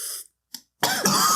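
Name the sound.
coughing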